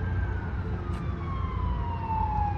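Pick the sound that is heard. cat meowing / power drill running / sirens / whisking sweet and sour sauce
sirens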